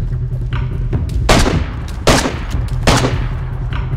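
A grenade blast and bursts of gunfire in the DayZ video game, with several sharp, loud booms and shots in quick succession that ring out over a steady low rumble.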